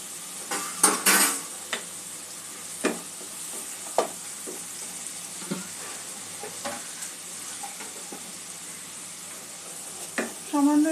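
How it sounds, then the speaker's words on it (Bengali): Spices for chicken meatballs fry in a pan with a low sizzle, broken by scattered clanks of a spatula scraping against the metal, and a voice talks briefly near the end. "সমস্ত মশলা একটু ভালো করে একটু কষে নিতে হবে"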